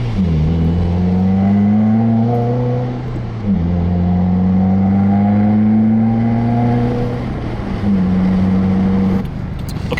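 A brand-new 2015–2017 Subaru WRX with a REMARK muffler-delete exhaust accelerates loudly through several gear pulls, its rising engine drone dropping at each shift, held well short of redline, with no talking.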